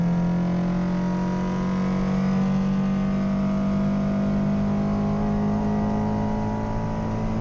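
A car is driven at full speed around the Nürburgring track, its engine holding a loud, steady drone with gradually shifting pitch, heard from inside the cabin with no talk.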